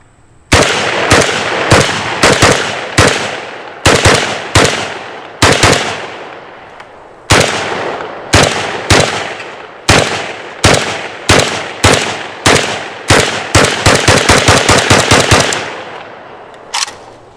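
Riley Defense Gen 2 AK-47 rifle firing outdoors, loud sharp cracks in uneven strings of single shots with short pauses, ending in a fast rapid series, each shot followed by a brief ringing echo.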